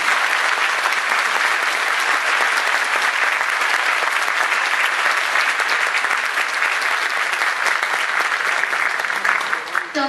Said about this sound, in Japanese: 今一度温かい拍手をお願いいたします